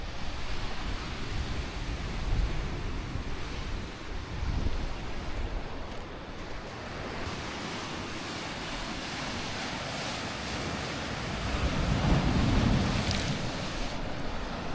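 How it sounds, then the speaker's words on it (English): Steady surf of Lake Superior washing against the shore just north of Gooseberry Falls, with gusty wind buffeting the microphone, a heavier wave surge rolling in near the end. "You know, the waves don't look too big,"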